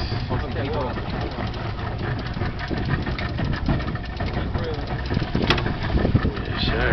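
A fishing boat's engine runs steadily through a mahi mahi catch, a rough mid-pitched rumble with knocking texture heard beneath excited talk and shouting on deck.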